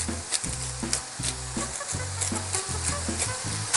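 Ground beef for enchiladas frying in a pan, seasoned with salt and pepper, giving a steady close sizzle broken by stirring scrapes, with low tonal hum bands pulsing underneath.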